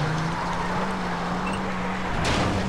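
A car drives steadily in Far Cry 3 with a low, constant engine drone and road and wind noise throughout, and a brief change in texture near the end.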